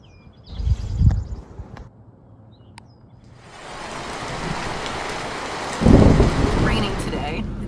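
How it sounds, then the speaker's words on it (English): Heavy warm-weather rain falls in the North Carolina mountains as a steady broadband wash that thickens and grows louder midway, with a few brief low thumps near the start and a stronger surge near the end. "it is raining pretty heavily"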